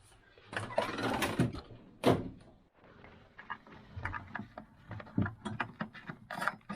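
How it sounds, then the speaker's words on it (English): Metal-on-metal ratcheting and scraping as a nut on a Vaillant EcoTec boiler diverter valve is tightened back up by hand, with irregular clicks and rubs, a louder clunk near the start, and steady close-up handling throughout. "So I've just got to tighten this nut back up again."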